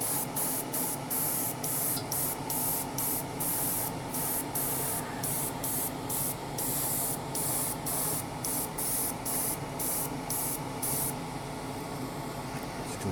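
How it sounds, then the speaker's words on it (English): An airbrush mists primer onto a 1:12 Tamiya Yamaha YZF-R1M model motorcycle frame, a close, steady spray hiss broken by regular short pulses of the trigger, with no talk. "I'm just going to start misting the primer on"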